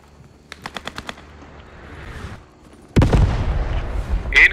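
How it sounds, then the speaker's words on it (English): Incoming artillery fire in a video game battle at Carentan: a quick string of sharp machine-gun shots, then a heavy booming impact followed by loud rumbling, close and forceful, with no talking. "Incoming artillery!"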